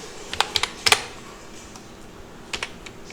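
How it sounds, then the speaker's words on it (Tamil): Typing on a computer keyboard while entering text in video editing software: short clusters of crisp, close key clicks separated by pauses. "நான் டெக்ஸ்ட் வந்து டைப் பண்ணுறேன்."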